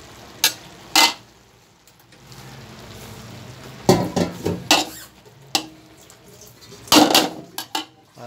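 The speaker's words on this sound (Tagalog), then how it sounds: "Nating haluin para hindi mangate." Intermittent metallic clanks and scrapes of a utensil stirring laing, a Filipino taro-leaf dish, in a cooking pot, coming in short irregular bursts with quiet gaps between, close and fairly clear, no talking.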